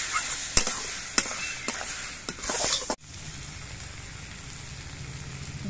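Turmeric and cumin powder paste in a pan, spatula strokes clattering during the first half, then a steady, close hiss once a little water is added, with no talking.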